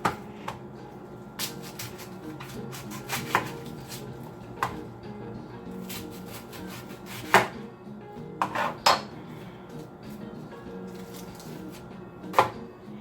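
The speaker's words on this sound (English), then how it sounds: "I'm going to chop up 2 onions," A knife chops Vidalia sweet onions and a green pepper on a board, sending out irregular sharp knocks and clatters over a low background hum, close by with no speech.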